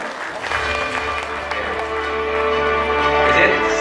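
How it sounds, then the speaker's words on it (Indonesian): Audience clapping for a speaker at a national dialogue event, steady applause blended with crowd murmur and low background tones, continuous and moderately loud. "Boleh tepuk tangannya seluruhnya."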